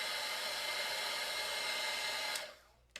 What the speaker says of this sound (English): I have my air gun here, but hair dryer works great. And you just go ahead and dry it.